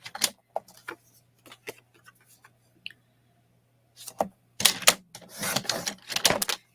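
Paper being trimmed to size for a handmade birthday card with a paper trimmer: scattered sharp clicks and taps, then a louder run of dense cutting and sliding bursts toward the end.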